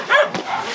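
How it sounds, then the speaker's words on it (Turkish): A dog on the Lycian Way hiking trail gives a quick, close bark or two with a slight whimpering edge, short and fairly loud. "Köpekler geliyorlar."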